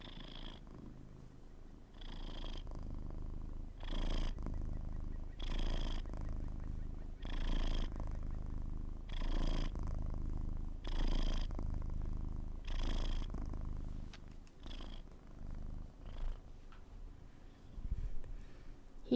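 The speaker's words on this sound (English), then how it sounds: "He's purring very loudly." A cat rests its head in the crook of a person's arm and purrs loudly and steadily, the rhythmic rumble rising and falling with each breath over nearly twenty seconds, close to the microphone.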